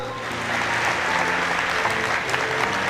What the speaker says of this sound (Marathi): आणि ह्या ज्या तुमच्या टाळ्या आहेत